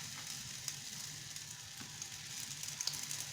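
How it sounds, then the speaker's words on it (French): Potato and cheese fritters fry in sunflower oil over medium heat, giving a soft, steady sizzle with scattered small pops and crackles, quiet and close, with no talking. "je vais commencer par mettre mes beignets dans l'huile. Et on va les faire frire de chaque côté."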